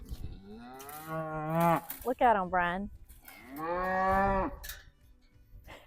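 Cattle moo in a corral on a Midwest homestead: several long, loud, drawn-out moos follow one another close by, and a person briefly speaks between them.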